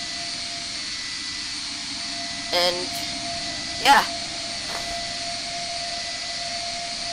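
A jet airliner taxis in the Roblox flight game Flightline3D, its engines a steady, even whine and rumble throughout, with a voice speaking briefly near the middle.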